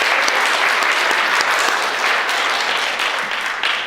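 Church congregation clapping during a Sunday sermon, loud and continuous full-room applause that holds steady then tapers slightly at the end, with no voices over it.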